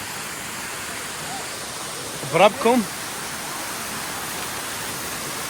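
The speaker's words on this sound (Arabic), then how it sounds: "تشوفون هذا ماي شلال، هذا يخوف" A waterfall at a summer resort in Duhok produces a constant, even roar of falling water, and one short spoken exclamation rises briefly above it midway.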